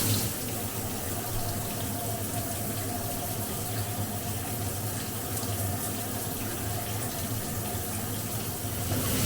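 Water runs steadily from a tap while a hair pre-poo treatment is rinsed out, a continuous close splashing flow that holds without a break from start to finish.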